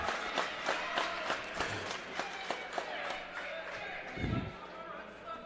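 Roseburg fans at a high school wrestling match clap in a steady, rhythmic unison beat, moderately distant in a gym, with a dull thump and commentary underneath.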